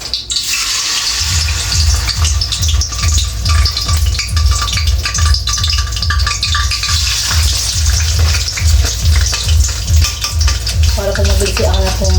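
Steady, loud sizzling and crackling of food frying in a pan, continuous throughout with a few clinks and faint movement on top.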